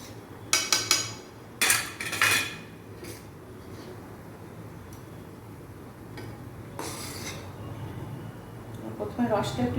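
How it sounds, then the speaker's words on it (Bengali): Palm pitha lifted out of syrup with a metal spoon, giving several bright clinks and scrapes against the pan in quick bunches, then a quieter stretch and more rapid tapping near the end. "আমি রসটা ছেঁকে ছেঁকে তুলে নেবো"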